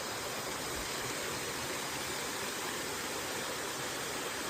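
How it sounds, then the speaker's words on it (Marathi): Steady, full rush of a stream flowing down on the Mahuli fort trek, a continuous broadband roar with no pauses, close and fairly loud throughout. "इथून पाणी वाहत आहे वरतून पूर्ण पाणी येतं"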